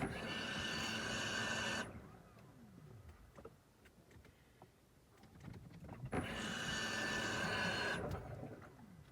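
A car's electric fuel pump, on an Audi A8 with a V8 FSI engine, whines steadily for about two seconds, drops away to quiet, then returns for another two-second burst, close and mechanical.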